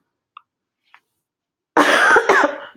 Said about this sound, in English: Excuse me if I cough during this video because I am not well.